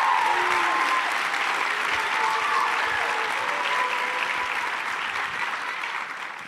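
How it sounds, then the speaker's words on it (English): Steady audience applause at a live political conference in Houston fills the hall, dense and sustained with no talking, tapering slightly toward the end. "Can you give a round of applause to Jolie and Madison and all the staff here to put this together?"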